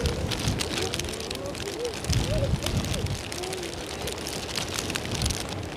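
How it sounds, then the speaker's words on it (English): Steady rain driven sideways by 40 mph crosswind gusts at Edinburgh airport, a dense broadband hiss with gusty surges, while faint voices murmur underneath. "Rain is pretty much sideways now."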